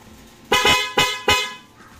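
Three short, loud honks from a Yamaha Mio scooter horn sound in quick succession, close by.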